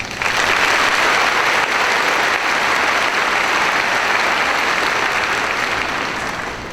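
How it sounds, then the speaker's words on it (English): Loud, sustained applause from a large crowd at a high school graduation ceremony, a dense, even roar of clapping that starts abruptly and tapers slightly at the end. "Please give them a round of applause."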